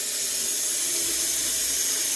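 Water runs in a steady, loud hissing stream into a pot being filled for steaming snow crab, continuous and close throughout without talk.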